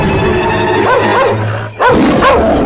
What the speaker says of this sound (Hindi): इतना क्यों भौंक रहे हो?